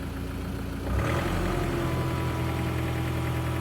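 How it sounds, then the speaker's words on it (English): Ford Ranger T6 engine, exhaust removed, rising from a quiet idle into a steady, loud rev about a second in and holding a rough, throaty drone to the end. "Just rev it slightly."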